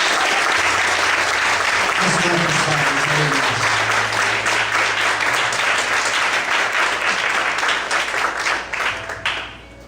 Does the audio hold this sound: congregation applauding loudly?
yes